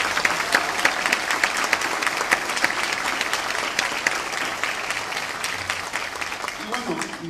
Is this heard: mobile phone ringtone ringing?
no